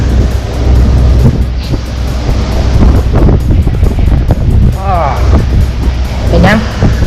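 Wind gusts buffet the microphone on a boat crossing Lake Ashi near Mount Fuji, a loud, rushing low roar that rises and falls while people talk close by.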